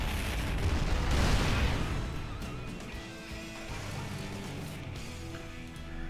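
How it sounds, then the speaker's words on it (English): Siege tanks shelling a planetary fortress in a StarCraft 2 battle: a dense, loud barrage of booming blasts and gunfire peaking early, then easing into a steadier rumble of continued fighting. "it looks like he's going to shell this planetary fortress"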